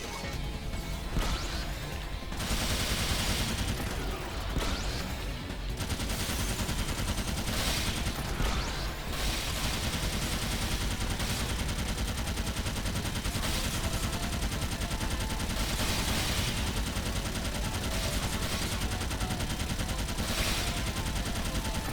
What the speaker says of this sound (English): This is a nice Gateling Gun.